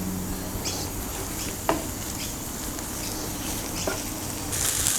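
Beaten eggs being stir-fried into egg fried rice in a hot pan, with a steady sizzle and a few sharp spatula scrapes and taps.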